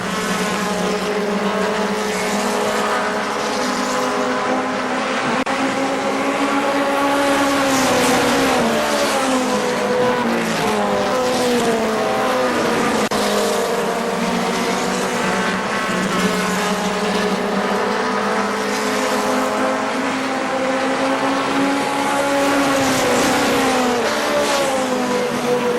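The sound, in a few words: race cars at KilKare Speedway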